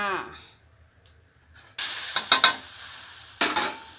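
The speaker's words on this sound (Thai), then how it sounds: "ผัดกับพริกแกงให้หอม" Thai jungle curry paste being stir-fried in a pan: after brief talk, loud sizzling bursts with stirring and scraping come in, fade slightly, then flare up again.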